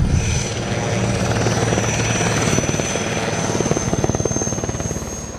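Fennec helicopter in flight during anti-drone security patrol, loud steady rotor thump and turbine whine, near and continuous throughout.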